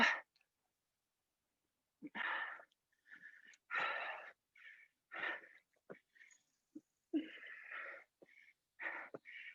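Breathing during a bodyweight workout exercise: breathy, close exhalations and inhalations come in uneven bursts with short pauses, fairly faint and alone.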